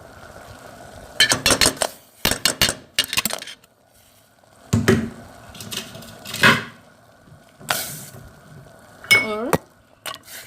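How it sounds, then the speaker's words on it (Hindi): Ice cubes clatter into a pot of pink Kashmiri tea in several sharp, bright clinks and knocks, close and fairly loud, spaced unevenly across the stretch. "अब हम इसमें आइस क्यूब्स डालते हैं।"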